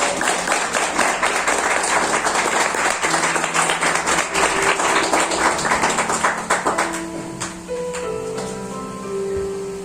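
A church congregation claps in a dense burst of applause that thins to scattered claps as an electric keyboard begins playing soft sustained notes.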